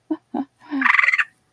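A frog toy made of textured material gives two short clicks and then a rapid, ratcheting croak, close and clear, with no speech over it.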